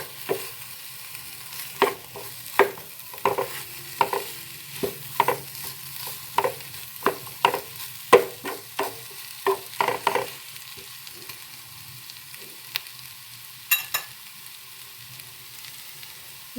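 Chicken tempering cooking on low heat, with a series of distinct scraping spoon strokes as the pieces are stirred in the pan over a soft, steady sizzle that fades toward the end.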